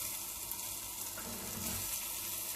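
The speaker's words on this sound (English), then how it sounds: "Now can you hear the sizzle?" Leeks and potatoes sizzling in melted butter and oil in a pan, a steady close crackling hiss running throughout with no talk.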